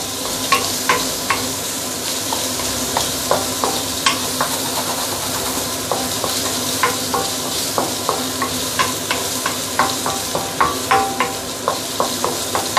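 Prawns stir-frying in a pan with black pepper and salt: a steady close sizzle runs throughout, with regular scraping clicks from the stirring utensil every half second or so. No one speaks.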